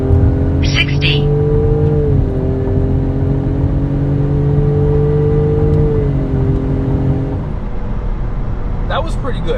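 A 2024 Ford Mustang with a turbocharged four-cylinder and 10-speed automatic accelerates hard, its loud steady engine drone stepping through upshifts twice before easing off, with brief talk near the start and end.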